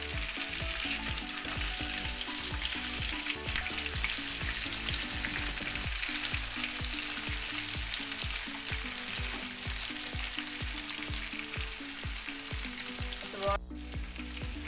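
Chicken pieces fry in hot oil at home, a loud continuous close sizzle and crackle with regular soft knocks and scrapes from a utensil in the pan.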